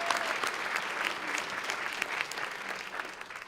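An audience at a Law Day gathering at a justice center breaks into sustained applause for a guest speaker, many hands clapping evenly with a few louder claps standing out.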